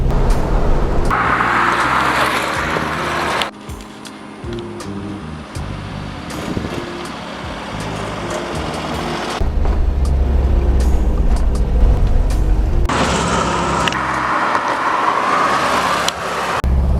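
A 1970 Volkswagen convertible Beetle drives with the top down, its air-cooled engine droning steadily with wind and road noise, loud and close throughout, revving and shifting at points.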